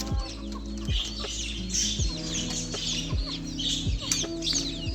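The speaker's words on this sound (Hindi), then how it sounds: "और इन सारी मुर्गियों को खोल देते हैं यार।" Several chickens cluck and squawk close by in overlapping bursts as they are let out, with busy farmyard chatter throughout and no human voices.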